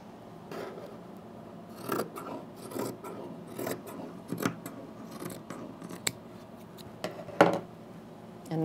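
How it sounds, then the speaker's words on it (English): Scissors snip through fleece fabric for a toddler poncho in a run of close, crisp, irregular cuts and rasping strokes, with a few sharper clicks of the blades; no talking. "Yep, so I'm gonna cut it a little bit bigger."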